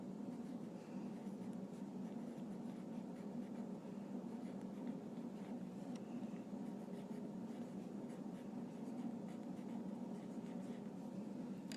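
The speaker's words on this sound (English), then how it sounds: "I'm using red, I'm going to go ahead and write scientific notation" A red pen writes on a paper flap, a faint, continuous scratchy stroking close by, steady and quiet with no voices.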